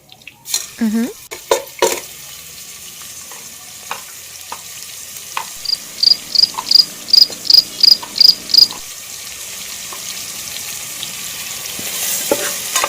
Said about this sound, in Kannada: ಚೆನ್ನಾಗಿ ಫ್ರೈ ಮಾಡ್ಕೊಳ್ಳಿ ಈರುಳ್ಳಿ ಕೂಡ